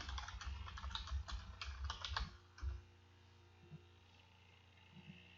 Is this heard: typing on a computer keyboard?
yes